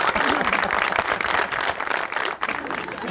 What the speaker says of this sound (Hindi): तस्नीम साहब के लिए ताली।